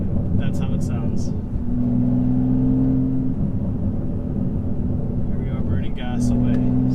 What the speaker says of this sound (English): letting off of the gas and just all these burbles